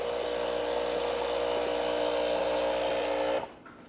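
A Breville espresso machine pump drives water out through the hot water spout during descaling, a loud steady buzzing whir that cuts off abruptly near the end, leaving quiet room tone.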